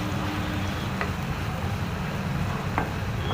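Vegetables for paneer lababdar fry in a pan with a steady soft sizzle and occasional stirring scrapes, close and continuous.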